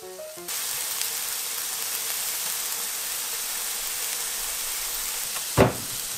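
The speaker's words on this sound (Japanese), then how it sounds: "温めたホットプレートにオリーブオイル小さじ1を加え、 エビとピーマンを炒めていきます。" Shrimp and green peppers stir-frying in a teaspoon of olive oil on a heated hot plate: a steady, even sizzle holding at one level throughout, with a short louder burst near the end.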